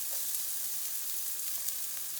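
Garlic and white onion sizzle steadily in olive oil in a pan over medium heat, a close, continuous crackling hiss with small pops and no talking.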